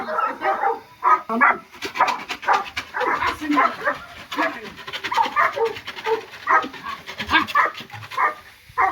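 A dog barks and whimpers in short, repeated bursts during obedience training among other dogs, close by, with a trainer talking throughout.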